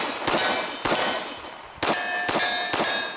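Pistol shots from a Commander-size handgun ring off a steel target in four sharp metallic clangs, each leaving a bright, sustained ring that decays before the next hit; uneven spacing, near and loud.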